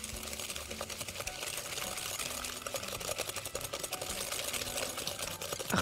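Sugar, vanilla and egg beaten together with an electric mixer, a steady close whirring buzz that holds through with faint clatter in the bowl.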